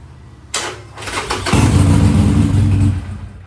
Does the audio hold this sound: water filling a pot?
no